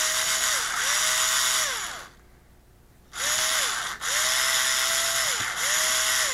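A power drill loosens screws in repeated whirring bursts that rise and fall in pitch, loud and close, with a short pause between runs.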